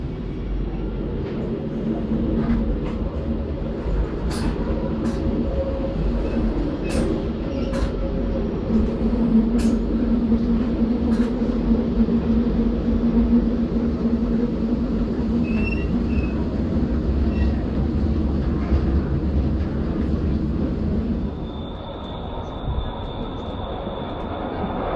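A Swiss regional train on the metre-gauge MOB line near Zweisimmen runs with a steady, loud rumble of wheels and carriage for most of the stretch, with faint squeals and clicks over the top, easing to a quieter hum near the end.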